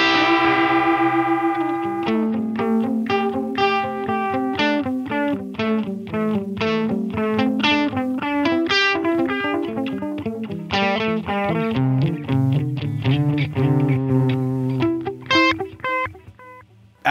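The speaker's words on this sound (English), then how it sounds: "Hear the warbliness to the delayed echoes." Electric guitar played through a Line 6 vintage digital delay with deep modulation: a continuous run of plucked notes with warbling, pitch-wavering echoes trailing behind each one, loud and alone throughout.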